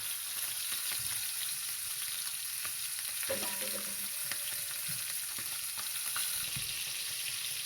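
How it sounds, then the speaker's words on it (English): Chicken meat frying in a pan on a stovetop for chicken and rice, giving a steady close sizzle with occasional stirring scrapes throughout, no talking. "So we're gonna get this fried up."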